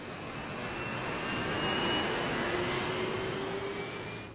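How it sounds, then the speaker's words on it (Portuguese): Airliner jet engine turbines roaring steadily in a broad wash of noise, with faint rising whining tones over the top, swelling slightly mid-clip and holding at a fairly loud level. "Os motores a jato contêm turbinas que produzem diferentes sons, dependendo da velocidade que estão girando."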